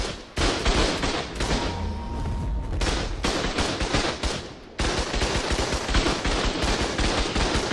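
Automated turrets firing in Ark Survival Evolved on Crystal Isles, rapid loud bursts of gunfire that run almost without a break for several seconds, with one brief pause near the middle.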